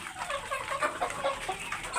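Several egg-laying Australorp parent hens cluck in a steady, overlapping stream of short calls, moderately close and fairly quiet, with no talking.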